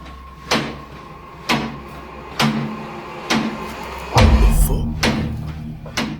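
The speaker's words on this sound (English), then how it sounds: "The culprit in the kitchen cupboard, whose door is banging over and over again." A kitchen cupboard door bangs shut again and again at a steady pace, about once a second, with sharp wooden thuds and one heavier slam.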